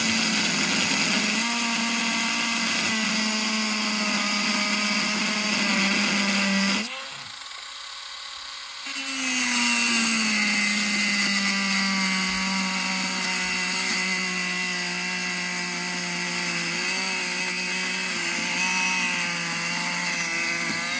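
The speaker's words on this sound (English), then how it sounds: "I'm going to take my Dremel, and I'm going to start cutting." A Dremel rotary tool cuts through a metal motor shaft with a steady, high-pitched whine. The pitch dips briefly midway as the bit bites, then the loud, continuous grinding carries on with no talking.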